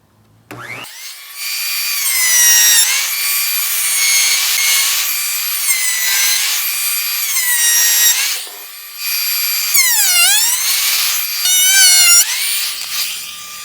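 A loud, steady planer whine cuts into wood for a bed frame in long continuous passes, pitch dipping and rising as the cutter works, with brief gaps between passes.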